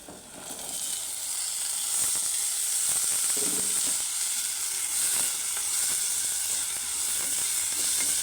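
Cluster beans with a spoonful of turmeric frying in a pan, a steady close sizzle and hiss running the whole time with a few soft stirring scrapes and no voices.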